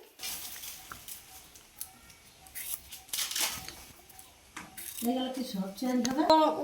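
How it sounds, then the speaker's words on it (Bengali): Homegrown cucumbers are peeled with quick, irregular scraping strokes that are fairly close and light. A voice comes in near the end. "খোসাটা আমি প্রথমে ছাড়িয়ে নিচ্ছি।"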